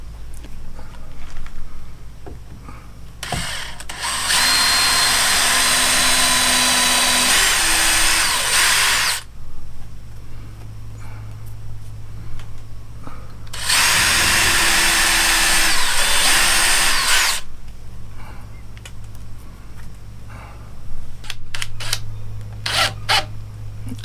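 Power drill driving a screw through door shims into wood while hanging an exterior shed door, two long loud whirring bursts with brief quiet gaps and lighter handling noise between.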